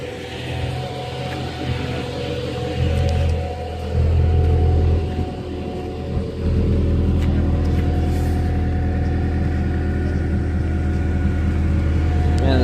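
A car fitted with a swapped-in Honda Euro R engine pulls away on its first drive, its engine a steady loud rumble that surges as it accelerates, with a brief dip partway through and no talk.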